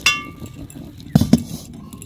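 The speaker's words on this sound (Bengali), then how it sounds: "কড়া বসিয়ে দিলাম।" A metal kadai set down on a clay stove, giving a couple of sharp clinks and a rattle of metal midway, near and fairly loud over a low crackling background.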